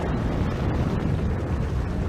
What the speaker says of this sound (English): The thunderous explosions continue for 2 hours before they relent.